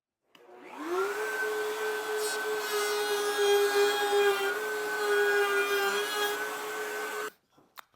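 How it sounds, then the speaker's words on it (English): A glued wooden logo piece is sanded with a belt sander, which starts abruptly and runs as a steady, close whining drone with a grinding rasp for about six seconds before cutting off. "So I'm going to sand that down."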